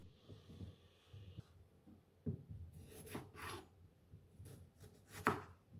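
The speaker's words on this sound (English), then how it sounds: "To start, let's quarter the potatoes." A knife cuts potatoes into quarters on a board, giving a handful of quiet, separate chops and scrapes spread out with pauses between them, with no voice over them.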